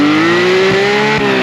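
A Porsche 991 GT3 engine screams near the top of its rev range, a loud, rising high-pitched wail that climbs steadily and briefly dips at a shift.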